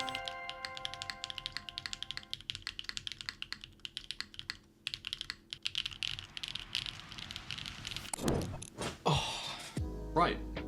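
Typing on a Neo70 mechanical keyboard fitted with gaskets, a steady run of close, crisp keystroke clacks with rattly taps, and louder bursts of other handling noise near the end.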